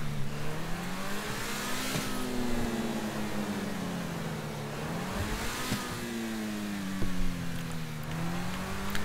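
Ferrari F430 mod car in GTA 5 cruising steadily, its engine droning with rising and falling revs as it accelerates and eases off, continuous and close with no talk.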